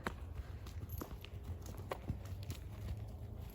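An anxious horse walks on firm ground during a training session, its hooves clip-clopping in an uneven, moderately close rhythm of soft thuds under faint background noise.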